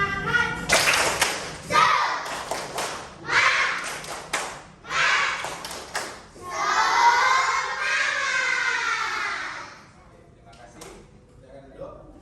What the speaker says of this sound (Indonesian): pimpin tepuk semangat. Tepuk semangat.